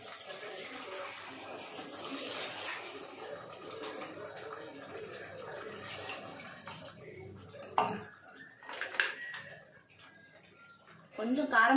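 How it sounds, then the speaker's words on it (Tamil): Water is poured into a pot of chicken curry in an uneven stream, a soft wet gush under the steady background of a kitchen, ending with a louder splash. "இன்னும் கொஞ்சம் கூட தண்ணி ஊத்திக்கிறேன்,"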